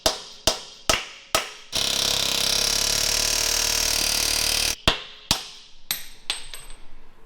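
Hammer blows on a steel suspension bracket of an offroad 4x4 bread van being fitted with a custom 4-link, four sharp strikes, then a few seconds of steady loud grinding-like noise, then more ringing metallic hits close by.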